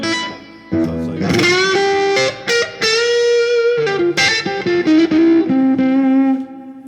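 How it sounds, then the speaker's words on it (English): An electric guitar is played through a Peavey Vypyr VIP 1 amp with the reverb effect on, giving loud, distorted sustained notes and bends that ring out with a washy tail, with no talking. "This is reverb."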